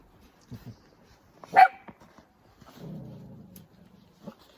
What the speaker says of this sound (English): That's Echo barking.